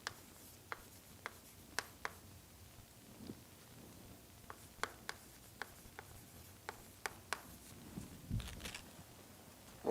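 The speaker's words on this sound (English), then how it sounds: "So let me write like this." Chalk or marker writing on a board during a university lecture on partial differential equations, a string of short, sharp taps and scratches at an uneven pace, fairly quiet in a room with no talking.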